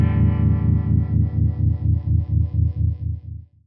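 An electric guitar runs through a Supro Tremolo pedal with the gain turned all the way up, a thick distorted chord pulsing in steady rapid throbs before tapering off near the end.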